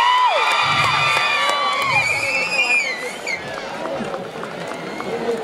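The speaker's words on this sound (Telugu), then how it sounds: "ఒకసారి గట్టిగా క్లాప్స్ కొట్టండి" An audience at a college cultural event for Ganesh Utsav at RGUKT RK cheers loudly, with shouts, whoops and crowd babble continuing throughout.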